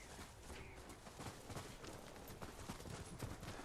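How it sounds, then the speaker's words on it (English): Horse hooves galloping in Ghost of Tsushima, a quick, irregular clatter of hoofbeats running continuously at low volume amid faint ambient game noise. "Trying to keep up with the horse."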